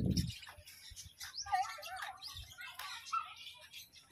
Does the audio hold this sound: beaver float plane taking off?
no